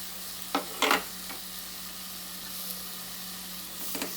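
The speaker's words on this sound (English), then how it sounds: "So I'll just give it a good mix and wait for the oil to ooze out." Egg dum biryani mixture with chopped coriander and birista being stirred in hot oil, a low steady sizzle with a few brief scraping clatters of the spoon near the start and end.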